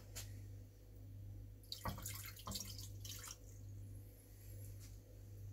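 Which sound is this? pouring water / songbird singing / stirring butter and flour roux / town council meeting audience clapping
pouring water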